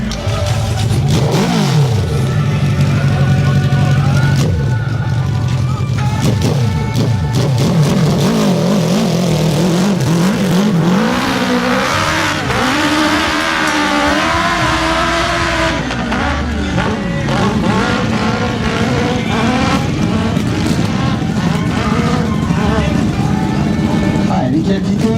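Motorcycle engine revving hard during a hill climb jump competition in a power park, loud rising and falling engine whine with shifting pitch, under continuous commentary.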